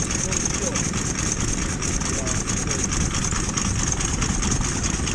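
Steam engines at a wet, muddy steam rally run in a steady chugging drone, a continuous engine rumble with a hiss on top, heard at moderate distance under general show ambience.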